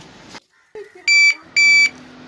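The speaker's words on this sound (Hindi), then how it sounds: "ये राइट इंडिकेटर और लेफ्ट इंडिकेटर" Electronic turn-indicator beeper from a bicycle indicator kit, giving two loud, even electronic beeps of about a third of a second each in a steady on-off rhythm, preceded by brief clicks and faint background noise.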